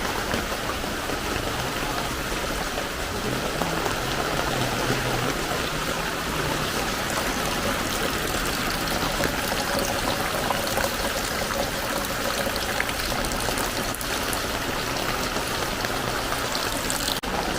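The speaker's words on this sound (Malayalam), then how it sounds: "നല്ല മഴ മഴയോട് മഴ" Heavy rain pours steadily in the dark of late afternoon, a dense, even hiss of drops on surfaces that runs unbroken from start to finish, with faint low sounds beneath.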